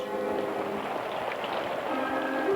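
Cartoon sound effect of a relentless rain cloud and swirling torrent, a continuous hiss of pouring rain and rushing water with faint tonal layers underneath, steady and moderately quiet.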